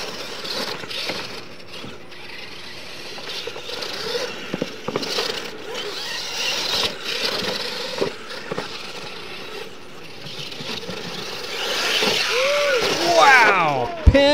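Unlimited brushless Pro Mod RC monster trucks race toward the finish in a bracket event. Busy, noisy background throughout, with high electric motor whines sweeping up and down near the end.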